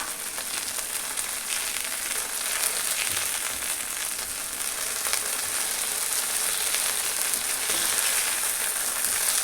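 Anchovies sizzle steadily in a frying pan, a dense close-up crackle of hot oil that holds level and slightly intensifies as the small fish are turned, with no voices.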